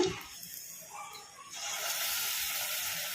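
Small balls of onion Manchurian batter fry in hot oil over a low flame, giving a steady close hiss and sizzle that swells louder and denser in the second half.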